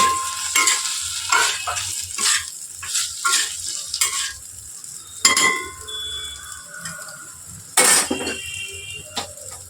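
Potatoes fry in a pan, with a low bubbling sizzle broken by repeated clinks and scrapes of a spatula or utensil against the pan, some sharp and close.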